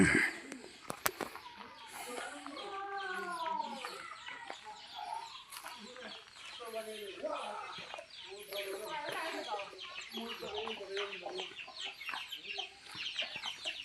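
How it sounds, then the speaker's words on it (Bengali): Domestic chickens in Mizoram cluck and call repeatedly at close range while being fed rice, a busy flock chorus of overlapping short clucks and longer coos with faint human voices underneath. "এগুলো হচ্ছে বন্য নয়, পোষা মুরগি।"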